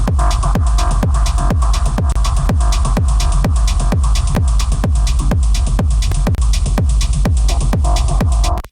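Electronic dance track without its mastering chain: a pounding kick drum repeats steadily at roughly two beats per second beneath layered synth chords and crisp hi-hats, loud and continuous, with no talking, until a quick cutoff at the end.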